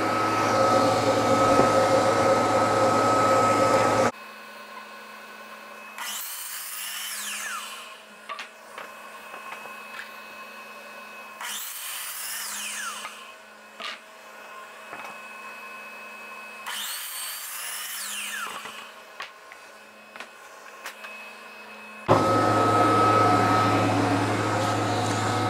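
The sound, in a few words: chop saw cutting wood with dust collection vacuum running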